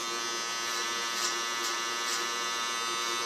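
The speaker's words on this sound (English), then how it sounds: "Therefore, this clipper is really wonderful." A bowl-style electric hair clipper buzzes continuously at close range, a steady bright whine with slight pulsing, no voices over it.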